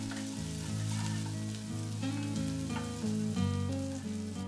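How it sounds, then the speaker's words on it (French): Garlic and bean sprouts frying in a pan for Sichuan-style fish, a dense continuous sizzle heard close, with a steady tonal hum layered underneath throughout. "y faire revenir l'équivalent d'une gousse d'ail, et y ajouter les germes de soja, cuire l'ensemble 30 secondes"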